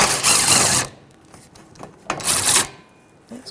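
A socket wrench with a 16mm socket loosens the center carrier bearing mounting bolts on a 2007-2017 Jeep Patriot 2.4L, giving two close bursts of rapid ratcheting clicks separated by a short quiet gap with faint scattered taps.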